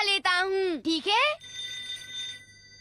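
Telephone ringing in a cartoon, a synthetic ringing tone that follows a child-like voice and then fades out.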